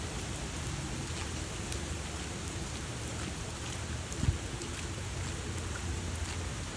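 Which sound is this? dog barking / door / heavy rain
heavy rain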